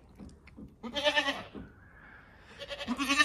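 A horned mother goat calls near the farm pen in two bursts of bleating, a wavering cry early and another toward the end, loud and close with no talk.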